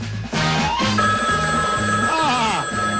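A telephone line rings on a Chicago radio show in a regular pattern of repeated bursts. The rings are loud and up close, with no talk over them.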